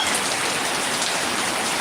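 Rain falls steadily in a dense, even hiss, moderately loud and unbroken throughout, with no voices.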